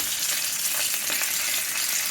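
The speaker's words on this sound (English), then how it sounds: "You want to hear a sizzle." Pieces of cut chicken frying in a hot pan give off a steady, close hissing sizzle with faint crackles throughout, no voices over it.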